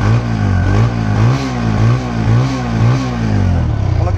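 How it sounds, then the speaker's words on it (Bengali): A modified 2022 Apache RTR 160 2V motorcycle engine revs up close in repeated loud pulses, its throaty note rising and falling about every half second. "বাইকের সাউন্ড দেখছেন কি দেখবেন"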